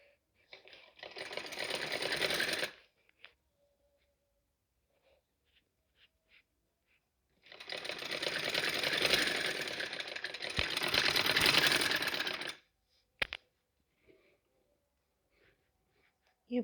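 Sewing machine stitching a neckline in two long, steady whirring runs, close and loud, separated by a quiet stretch with faint handling sounds.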